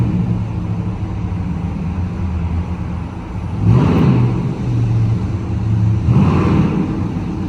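Dodge Charger R/T in first gear with track mode on, revving in dense Times Square traffic in New York City: a loud, steady engine drone that surges in two strong revs, close by, no talk.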